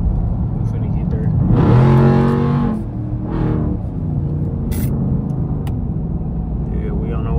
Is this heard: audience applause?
no